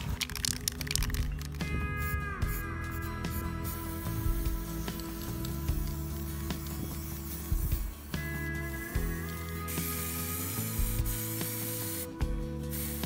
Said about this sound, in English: I'm going to give them a spray down with some Volvo green paint.